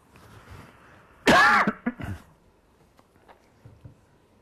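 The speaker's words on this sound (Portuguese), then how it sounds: "Vou dar uma tossidinha." A man in his late sixties gives a small cough and clears his throat during a lecture. There is one sharp, loud burst followed by a couple of shorter rasping catches, close to the microphone, then quiet.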